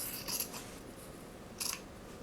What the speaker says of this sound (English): So you can just cut off one of the flaps,